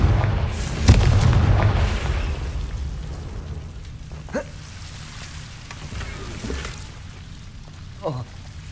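Confringo blasting spell in a Harry Potter-style game, a deep booming explosion with a rumbling low-end burst followed by a fading crackle and smaller impacts.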